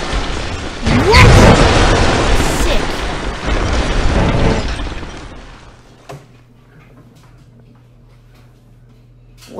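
Video game sounds of cars crashing into buildings: heavy booming crashes and rumbling impacts fill the first half, loud and layered, then fade to near silence with a few faint ticks.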